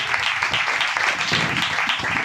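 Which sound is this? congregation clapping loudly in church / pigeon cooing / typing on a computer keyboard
congregation clapping loudly in church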